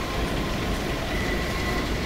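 A train in the video game Half-Life 2 rumbles past with a steady, loud roar and a faint metallic wheel whine over it, continuous through a short stretch.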